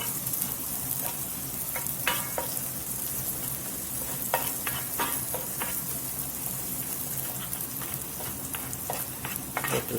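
Flour sizzles in oil in a skillet as the base for pork chop gravy. A steady, moderately loud fry runs throughout, with scattered scraping and stirring clicks from a utensil and no talk.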